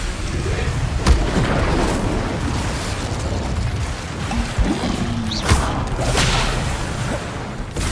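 A fire spell cast in the Hogwarts Legacy video game bursts with a loud whooshing blast over rumbling game sound, with sharp pops near the start and again around the middle.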